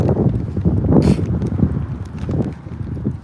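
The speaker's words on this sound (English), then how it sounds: "God damn, it's windy." Steady gusts of wind buffet the microphone, a continuous low rumbling roar with brief louder bursts throughout.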